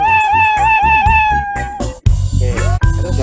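Synthetic cat meows from a student-made video game repeat in quick rising calls, loud and close, with a few harsher bursts near the end.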